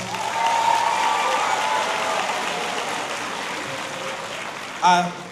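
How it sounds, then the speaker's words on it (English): Audience applause for graduates at a Martinsville High School graduation ceremony, a steady wash of clapping from a large crowd that holds for several seconds, then a brief louder bump near the end. "Give them another round of applause"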